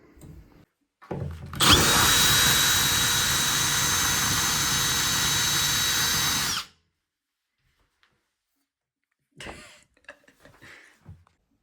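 A power drill bores into wall tile with no wood behind it, making one loud, steady high-pitched whine of about five seconds that stops abruptly, followed by silence and a few faint handling knocks.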